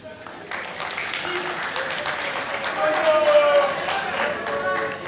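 An audience at a school science quiz contest applauds steadily, a dense patter of clapping that swells slightly midway, with a voice speaking over it.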